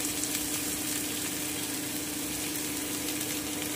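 Chopped radish frying in a pan for a vegetarian winter ghonto, giving a steady, even sizzle throughout with a faint low hum underneath.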